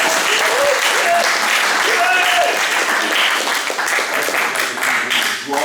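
Sustained audience applause fills a hall during an evening of testimonies at a 2023 pilgrimage, dense and steady throughout, with a few voices and whistles faintly mixed in.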